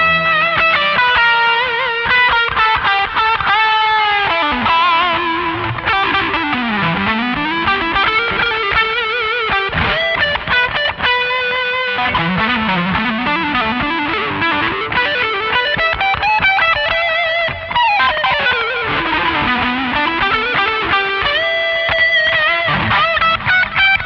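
An overdriven electric guitar through a Laney amp pedalboard plays a sustained, singing lead line with delay repeats trailing each note, loud and continuous with no voices.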